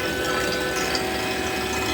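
Vacuum pump running during an HVAC compressor change-out, a steady, loud mechanical drone with a fine ratcheting rattle and constant tonal hum, unbroken throughout.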